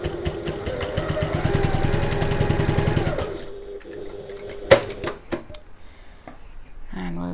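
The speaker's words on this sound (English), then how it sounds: "then just sew along the short end using a 1/4 inch seam allowance" A sewing machine runs steadily for about three seconds, stitching along the short end of a fabric strap, then stops, followed by a few sharp handling clicks and light rustling.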